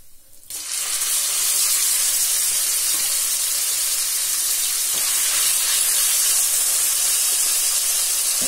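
Minced chicken hits hot oil with fennel seeds in a pan, bursting into a loud, steady hiss and sizzle that holds continuously after a brief quiet start, with no talking.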